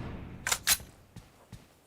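M416 rifle sprayed in PUBG Mobile during an esports match: two sharp, loud bursts close together early on, then a couple of fainter single cracks after, with quiet gaps between.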